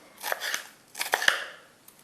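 A knife slicing a red bell pepper on a board, two short clusters of crisp crunchy cuts separated by a brief pause, close and clear with no speech.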